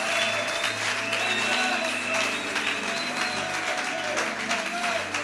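A French-speaking church congregation applauds during a worship service with a continuous patter of many hands clapping, loud and steady, blended with music and voices in the background.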